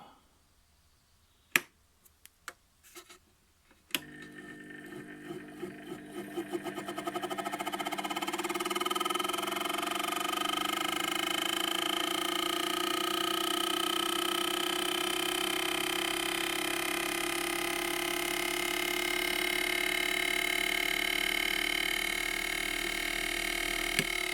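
Washing machine motor wired up on a bench, starting after a few sharp clicks and whining steadily, running at low speed and then at high speed, loud and continuous with no talk over it.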